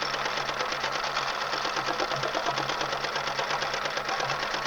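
A sewing machine stitches down the edges of an appliqué daffodil wreath block with a fast, even needle rhythm. The mechanical whir runs unbroken at close range and nothing else is heard.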